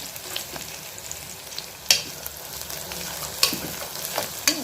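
Onions frying with a sprig of curry leaves in a pan for a beef gravy, a steady low sizzle broken by a few sharp scrapes and stirring clatters of a spoon against the pan.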